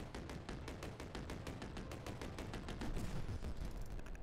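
Continuous rapid gunfire in the racing game Barrier X, a dense, even rattle of shots repeating steadily throughout, moderately loud and uninterrupted.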